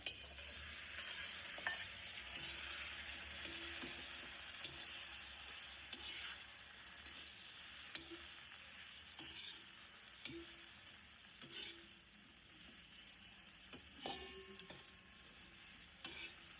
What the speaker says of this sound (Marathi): आता आपण त्यात शिजवलेला शेवगा टाकूया